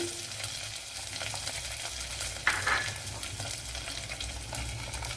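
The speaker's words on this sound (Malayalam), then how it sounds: "രണ്ട് പച്ചമുളക് ഇത്രയിട്ടൊന്ന് നല്ലതുപോലെ ഒന്ന് മൂപ്പിച്ചെടുക്കണം" Ginger, garlic and green chillies sautéing in a pan for an ayala fish curry, a steady close sizzle with stirring scrapes and a brief clink partway through, no voices.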